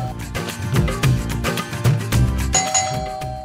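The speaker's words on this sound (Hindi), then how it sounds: "घंटियां बजा के सिर दर्द कर दिए मेरी।" A doorbell chimes repeatedly in a home during a comedy scene, its ding-dong tones ringing over a background music track.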